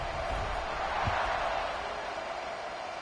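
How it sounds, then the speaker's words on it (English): Football stadium crowd at a Mississippi State versus Oklahoma game buzzing after a touchdown, a dense, steady roar of many voices that holds at an even loudness throughout, with a brief low thump near the middle. "this crowd is buzzing after that last score"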